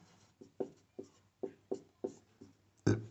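Chalk or marker strikes a classroom board in a quick series of short taps and strokes about every half second, ending with a firmer, louder scrape. No voice is heard.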